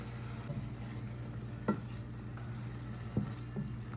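Vegetables sizzling in a pan with wing sauce stirred in, a steady low frying hiss with a couple of sharp scrapes of a utensil against the pan, close and fairly quiet.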